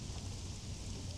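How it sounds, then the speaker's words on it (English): Steady, soft rainfall hisses evenly in the MLB The Show 21 baseball game during a Padres versus Reds matchup under the lights, with a low rumbling undertone and no voices. "Yeah, the rain starting to intensify here. It's coming down a little heavier now."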